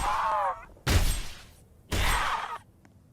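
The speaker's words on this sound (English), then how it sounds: "It was a firework gun that shoots fireworks when fired" Two loud bursts of firework-like blasts from a firework gun in Roblox Dead Rails crackle and fizz, separated by brief pauses, with a whistling tone at the start.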